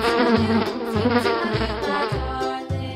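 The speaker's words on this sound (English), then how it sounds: "Fly." A housefly buzzing close up, a dense droning insect whine that pulses in repeated short bursts roughly every half second, loud and alone.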